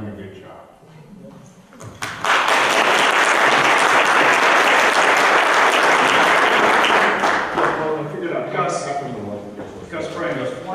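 Sustained loud audience applause at a community conversation event, rising quickly and holding steady for several seconds before tapering, with voices mixed in near the end.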